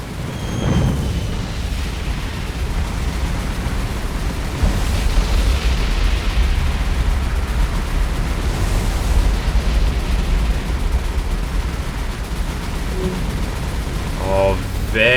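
Bombs exploding around ships during a naval air strike in the War on the Sea game, a heavy, continuous rumble of booms and blasts, loud throughout, with a voice talking partway through.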